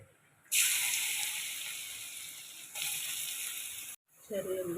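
A loud burst of sizzling erupts as grated coconut hits hot coconut oil, settling into a steady hiss, then briefly cutting off before resuming.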